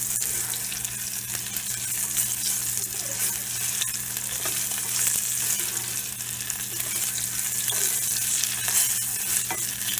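Ingredients browning in a pan for Tamil milagu kulambu give a dense, continuous hiss of frying with faint stirring underneath, close and steady, without speech.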